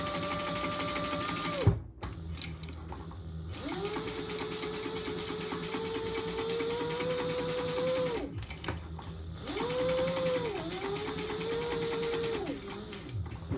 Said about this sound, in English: This is my first experience with sewing clear vinyl.